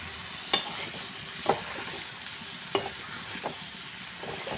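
A spoon stirs salt, turmeric and Kashmiri chilli powder into potato curry in a pan over high gas, giving a faint sizzle broken by several sharp scraping clinks at uneven intervals.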